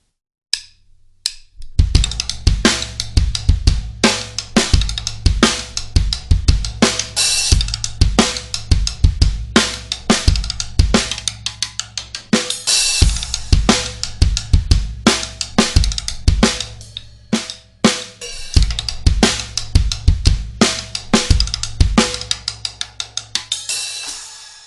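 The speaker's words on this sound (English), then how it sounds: "the rim. So just using that in a beat will sound like this." Drum rim hits are used as a sample in a beat, repeating in a steady, punchy rhythm over a deep bass pulse. The pattern is loud and close and runs for about twenty seconds, with brief breaks, and no voices.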